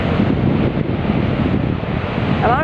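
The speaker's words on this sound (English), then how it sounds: "look at the size of the waves!" Big surf breaking on a beach, a loud, roaring wash of crashing waves buffeted by heavy wind on the microphone, continuous from start to finish.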